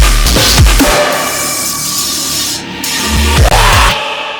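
Transition into the second half of an electronic song's drop, a loud filtered rasping, scraping texture with heavy low thumps near the start and end and a brief dropout in the middle, no voices.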